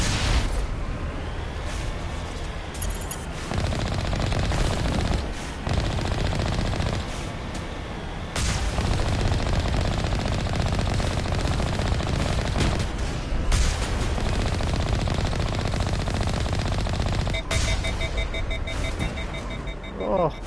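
Loud, continuous automatic gunfire and a heavy main cannon fire in the Mass Effect video game, heard close. The rapid bursts are dense and sustained, with brief pauses, booms and electronic beeping near the end.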